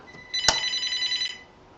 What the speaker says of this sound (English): and I'm just getting a phone call.